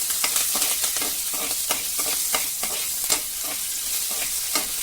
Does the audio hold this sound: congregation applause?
no